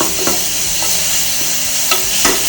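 Green chillies sauté in hot oil in a pan for a vegetable white kurma, a loud, dense, continuous sizzle close up, broken by a few sharp scrapes of a stirring spoon.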